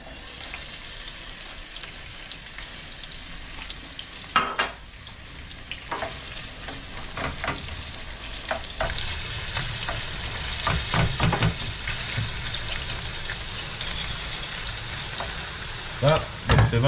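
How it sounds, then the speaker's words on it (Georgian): Onion and garlic frying in a pan for ajapsandali, a steady close sizzle with occasional stirring scrapes and clinks running throughout, no talking. "შემდეგ ტაფაზე დავყრით მოსათუშად ხავხს და ნიორს."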